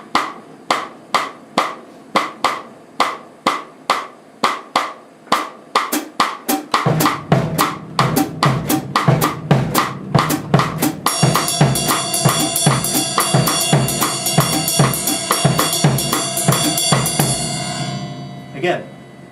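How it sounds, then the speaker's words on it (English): A Cuban clave pattern with an even eighth-note feel, starting as sharp solo clicks in a repeating syncopated rhythm, then joined by a fuller groove and sustained tones as more instruments layer in. "It sits over this groove, which is called a clave, and it's the basic pattern of Cuban music."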